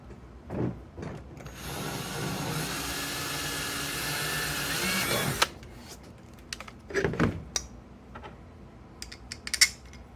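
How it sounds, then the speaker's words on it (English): Power drill boring a hole through a kayak hull, a steady whirring drone held for about four seconds, then stopping, followed by scattered close handling clicks and knocks. "so let's go back through here and drill this hole."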